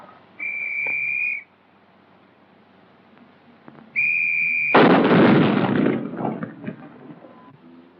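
A 280mm atomic cannon fires during a 1954 US Army proof test at Aberdeen, a single heavy blast with a long rumbling roar after two loud whistle signals, with no speech.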